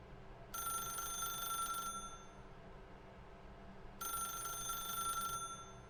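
Two bursts of an old-style telephone bell ringing in the video game The Stanley Parable, each lasting about a second and a half, separated by a pause over a steady low background hum.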